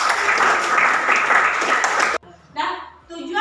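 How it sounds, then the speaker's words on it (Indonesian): Students in a vocational school classroom clap their hands in a burst of dense, even applause that stops abruptly, followed by a teacher's voice speaking. "Oke Ananda, tepuk tangan untuk kita semuanya."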